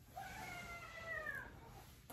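A pet cat meows close by indoors, one drawn-out whiny call rising and falling over about a second, fairly quiet, with no talk over it.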